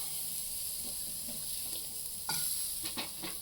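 Green chillies sizzle in a hot frying pan for village-style mutton chops, a steady close hiss with a sharper burst of crackle as they hit the oil and a few stirring scrapes, no talking.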